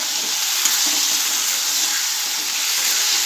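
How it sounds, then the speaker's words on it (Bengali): Potato and tomato sautéing in a pan after water is added, a loud, even hiss of frying that runs continuously with faint stirring underneath. "আবার জলটা দিলাম দিয়ে আর একটু কষিয়ে নেব"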